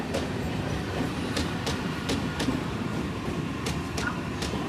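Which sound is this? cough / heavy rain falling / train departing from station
train departing from station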